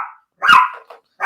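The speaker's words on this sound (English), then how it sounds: "That's a dog barking." A small dog barks close by, two or three quick yapping barks separated by short gaps, loud and clear with no talking.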